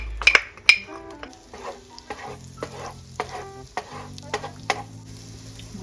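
Garlic fries in a pot for smothered oxtails and cabbage, a soft sizzle under a series of sharp metallic clinks and scrapes from a utensil stirring, near and irregular, without talking.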